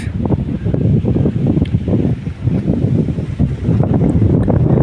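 Wind gusting hard across an open village spot near a mosque, a loud, constant buffeting roar battering the microphone throughout with no voices.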